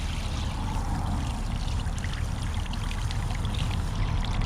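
Water pours and streams steadily and fairly loudly, with no break, while tie-dyed shirts and onesies are rinsed out under it.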